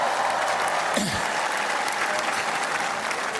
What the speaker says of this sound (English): let's give them a round of applause, for sure.